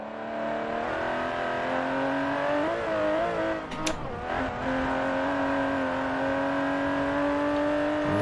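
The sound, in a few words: race car engine revving in Forza Horizon 4 video game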